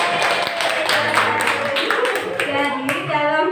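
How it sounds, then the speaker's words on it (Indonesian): Students in an elementary school classroom clap together in a steady, dense burst of applause that lasts throughout, close and fairly loud, with voices mixed in. "Berikan tepuk tangan."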